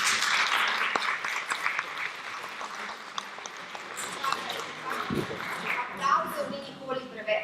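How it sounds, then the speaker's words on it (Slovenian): An audience at a panel discussion applauds the guests, a dense patter of clapping that thins and fades out toward the end, with a voice speaking over it. "Tako da vas je čisto neobičajno prosim za uvodni aplavz, ker so si vzeli čas"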